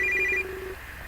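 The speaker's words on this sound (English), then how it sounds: "My phone vibrates and I go look at it" A mobile phone in a video game buzzes with a short electronic tonal alert, one brief burst lasting under half a second, then fading into low background hum.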